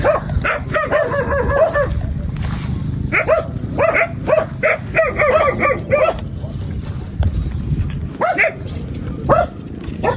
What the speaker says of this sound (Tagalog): Pag dito, daming aso talaga bawat bahay.